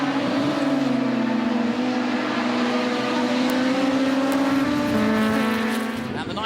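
Touring race cars, including a Honda Integra, roar around a circuit, a loud continuous engine drone with shifting pitch as the cars hold close together through the run.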